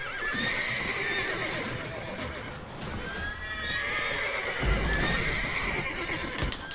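A horse whinnies loudly over steady clip-clopping hooves in The Witcher 3: Wild Hunt, with a continuous game-like ambience behind it and a few sharp thumps.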